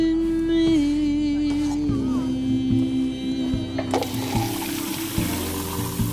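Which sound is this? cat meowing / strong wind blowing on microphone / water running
water running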